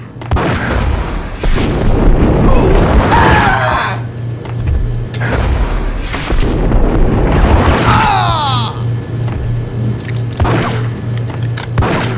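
In a Max Payne game scene, a loud booming rumble rolls under heavy sustained noise, with crackling debris and whooshing sweeps layered on top and a low hum beneath.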